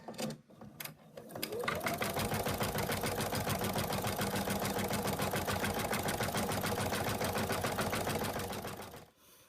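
An embroidery machine stitches a placement line for fabric appliqué on a mouse design, a fast, steady mechanical chatter that starts after a second or two, runs loud and unbroken, and stops just before the end.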